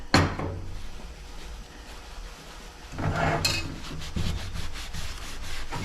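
Grime being rubbed off the bottom of an Ash Flash lantern, a near scraping and wiping texture with a few clunks of the lantern shifting, at moderate loudness.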